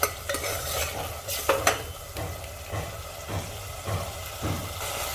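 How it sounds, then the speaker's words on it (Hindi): Chana dal roasting in a pan on a gas stove, stirred with a spatula in a steady scraping rhythm of short strokes over a soft background sizzle, close up with no talk. "इसे इस तरह से चलाकर भूनते जाएंगे"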